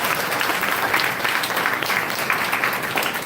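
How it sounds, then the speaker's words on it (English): An audience at a closing ceremony breaks into a sustained round of applause, dense and even throughout, with no speech over it. "A big round of applause to all of you."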